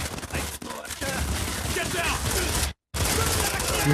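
Rapid continuous gunfire in the mobile shooter Modern Combat 5, dense and loud, mixed with excited shouting, with one brief silent break before the shooting resumes.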